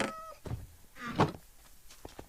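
A cat meows in Minecraft, a short sequence of a few mid-pitched calls, the strongest one near the middle, over quiet game ambience.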